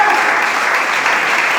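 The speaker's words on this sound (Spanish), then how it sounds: "tú nos provocas a darte palmas, Padre" Church congregation clapping hands together, a dense steady burst of many hands close and loud, with no talk over it.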